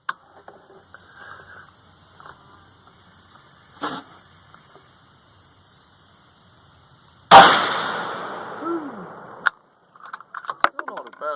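A single loud 450 Bushmaster rifle shot with a Hodgdon H110 load and Hornady 225 FTX bullet cracks outdoors after a quiet stretch with a few small clicks, its echo trailing off, followed by scattered handling clatter.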